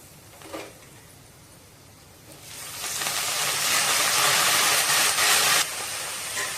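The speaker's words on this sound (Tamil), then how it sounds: "பொங்கல் தாளிக்கிறது ரெடி பண்ணுறோம்" A loud, steady sizzling hiss starts suddenly as a tempering for pongal hits a hot pan, holds for about three seconds, then drops back to a softer crackle, like spices hitting hot oil.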